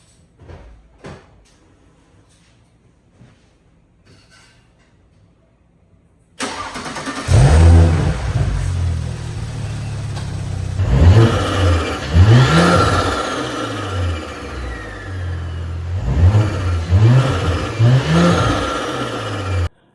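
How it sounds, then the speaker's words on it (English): Tuned B9 Audi S4/S5 with a new 034 inlet and intake, running stage 3 on a TT 710 turbo, fires up for the first time after a few quiet clicks, then holds a loud close idle punctuated by several sharp throttle blips. "you're about to hear the first startup on stage 3 on the TT 710"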